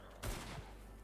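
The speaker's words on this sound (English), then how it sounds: "I hear gunshots" A single sharp gunshot in the zombie survival video game Humanitz bursts out, loud and close, then fades into a low rumbling ambience.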